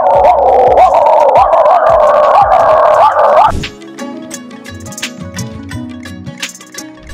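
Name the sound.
mimicry artist imitating dog barking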